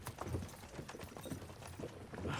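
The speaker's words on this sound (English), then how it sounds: "don't you think maybe we could make the horses go a little faster?" Horses plod along a road in the video game Kingdom Come: Deliverance 2, their hooves knocking out a steady, unhurried clip-clop rhythm that repeats close by throughout.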